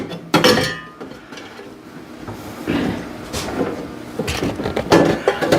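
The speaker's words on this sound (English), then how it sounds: "Then you give it a little twist to put it into place." A bread pan is twisted into place inside a Vevor bread maker, making several sharp metallic clinks and clunks in close, irregular bursts.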